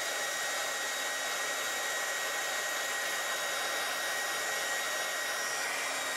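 A heat gun blowing hot air to shrink heat-shrink tubing over a wire, a steady, even hiss-like roar that holds unchanged and alone throughout.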